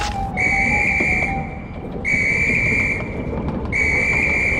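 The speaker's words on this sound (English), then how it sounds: "That sounds like a guard's whistle" A shrill whistle sounds three times in long, steady blasts over a continuous rumbling background noise.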